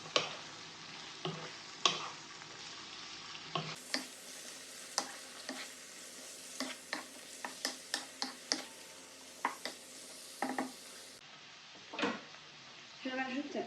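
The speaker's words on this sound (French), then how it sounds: "Je viens bien mélanger." A utensil stirs and mixes food in a sizzling frying pan, with repeated scraping and tapping strokes in an irregular rhythm over a steady fry hiss, close up, while a voice talks intermittently.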